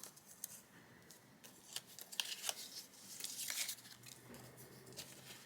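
Scissors snip through eco-dyed paper for a collage junk journal, a quick series of close, crisp cuts and rustles with a louder burst of snipping near the middle, quiet and without talk.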